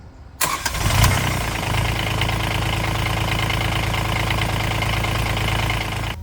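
A Kubota D722 diesel engine with a VNT turbo, fitted in a Honda car, cranks and starts, then settles into a steady, loud, rumbling diesel idle close by.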